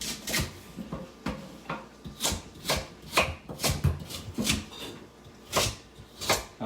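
A knife chops onions into small pieces on a cutting board for an English-style pot roast, making a steady run of sharp, close, moderately loud knocks with brief pauses between strokes, and no one speaks.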